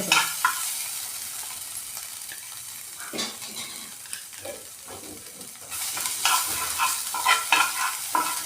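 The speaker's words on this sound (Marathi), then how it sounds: "आता मी इथे आलं लसणीची आपण जी पेस्ट घेतली होती ना ती एक चमचा घालते" Ginger-garlic paste sizzles in a pan with cumin and mustard seeds for masala bhindi, a steady frying crackle broken by a few spoon scrapes and stirs, growing louder and busier toward the end.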